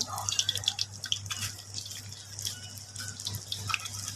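Fish fries in hot oil with yellow turmeric, giving a steady close sizzle full of crackling pops and spatters. A soft low hum runs underneath.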